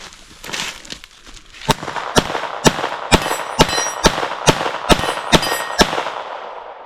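A Ruger Mark IV .22LR pistol fires at a target about 15 yards away, about a dozen sharp cracks in a fairly even rhythm, close and loud with short ringing tails.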